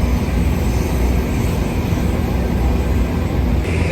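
Steady airplane engine roar, loud and continuous throughout, a broad even rumble with no pauses and no one talking over it.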